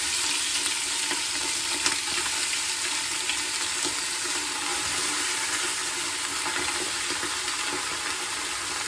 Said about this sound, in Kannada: ಇದನ್ನ ಫಸ್ಟು ಎಣ್ಣೆಲಿ ಫ್ರೈ ಮಾಡ್ಕೊಂಡಿರ್ಬೇಕು